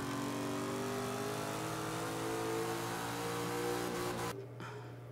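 A Chevrolet Camaro Z28 in a Forza 5 D-class race roars steadily under throttle, its engine note holding a loud, sustained rev before cutting off abruptly near the end.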